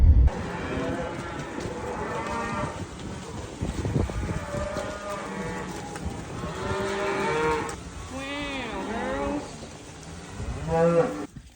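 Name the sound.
cattle mooing in a field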